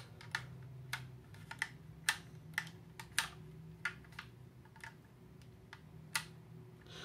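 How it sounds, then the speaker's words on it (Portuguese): An Xbox One controller trigger with a rusty spring clicks in a dozen or so sharp, light taps at uneven intervals, close and fairly quiet, with no talking. "isso aqui era fazer um barulho mais suave, melhorar o clique"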